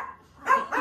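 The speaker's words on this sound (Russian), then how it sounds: "А ты чего ругаешься, Собакин?" A dog gives two short, close barks in quick succession, the second slightly softer, with no talking around them.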